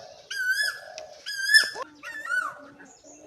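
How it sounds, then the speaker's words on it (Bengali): A koel calls from a tree in a Sundarbans village, three clear, rising tonal whistles spaced about a second apart, close and fairly loud against quiet surroundings with a little faint background noise. "ওদিকে কোকিল ডাকছে"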